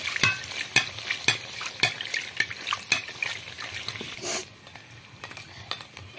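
Fuchka puris deep-frying in hot oil, a close bubbling sizzle broken by frequent sharp clinks and scrapes of a stirring utensil against the pan, easing to a softer fry near the end.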